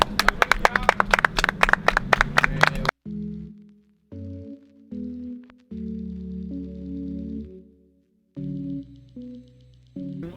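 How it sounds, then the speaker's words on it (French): A small crowd claps in a quick, dense burst for about three seconds, then stops abruptly as sustained electronic tones take over. "Petit tonnerre d'applaudissements."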